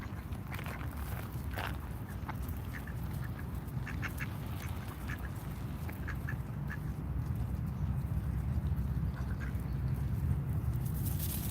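Ducks in Washington, DC quack repeatedly in short bursts, moderately close, over a steady bed of outdoor rumble and shuffling, with no talk over the calls.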